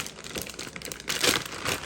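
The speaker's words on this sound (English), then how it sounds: "and place it in a plastic bag" A plastic bag crinkles and rustles close up as a beef skirt steak is slipped inside, a steady crackle that swells into louder bursts near the end, with no talking.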